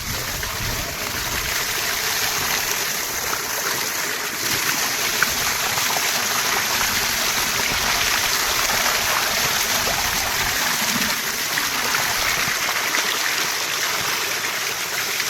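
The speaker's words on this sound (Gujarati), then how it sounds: "આ ટાંકી છે ટાંકીના ધોધ પડે ને નાવાની કઈ મજા જ અલગ આવે છે" Water gushes down from a water tank in a steady, loud, rushing splash that stays constant throughout with no breaks.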